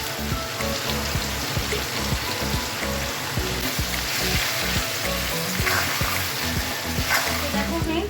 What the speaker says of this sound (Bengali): যেখানে আমি মাংসের জন্য আলু ফ্রাই করছি, আমি নুন আর হলুদ অ্যাড করব।